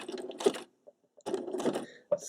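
Domestic sewing machine satin stitching tulips on fabric, running in two short close bursts with a brief pause between as the work is turned.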